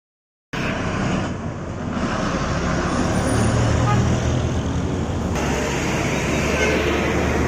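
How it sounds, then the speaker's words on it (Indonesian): A large box truck drives past on a road, a loud, steady broadband roar that starts abruptly and holds for about seven seconds with continuous traffic noise. "Truk box besar."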